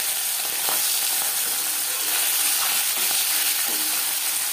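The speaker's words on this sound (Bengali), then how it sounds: "অল্প অল্প করে মাছ ভেজে নেব, তাহলে ভাজাটা ভালো হবে।" Small mourola sea fish fry in hot refined oil, producing a loud, continuous bubbling sizzle with occasional sharper crackles, heard up close and alone.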